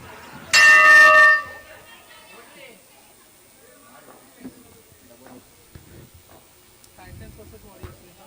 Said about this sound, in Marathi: ही बेल शेवटचा चेंडू असल्याची बेल